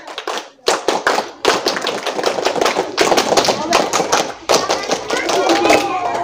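Scout group at a junior high school performs the rhythmic Pramuka clap: loud, close bursts of hand claps in patterned sequences, repeated twice, with short pauses between rounds and some voices calling along.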